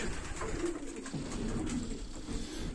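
Pigeons cooing softly, low throaty calls repeating over a constant hiss of background noise.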